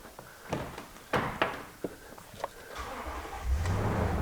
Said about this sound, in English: The car should start.